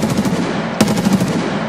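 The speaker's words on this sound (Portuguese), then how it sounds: "É em cima esses tiros aí." Rapid bursts of automatic gunfire rattle in quick succession, with a louder shot near the middle, from combat in the video game Escape From Tarkov, The Labs map.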